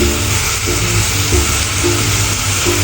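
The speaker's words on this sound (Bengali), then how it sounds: "ওই সমস্ত মশলা ঘিয়ের উপরে একটু ভেজে নিয়ে তার ভিতরে মশলাটা দিয়ে এই এই পর্যায়ে ভাজবো" Spices sizzle and fry in ghee for Peshawari-style chicken biryani, a steady, dense crackling hiss with faint stirring scrapes, close and continuous without any talk.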